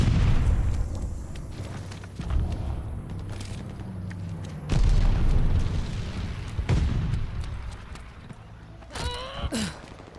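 Mortar blasts in Call of Duty Vanguard land as deep, loud booms with rumbling tails, several spaced through the stretch amid constant battlefield noise, ending with a few sharp high whines.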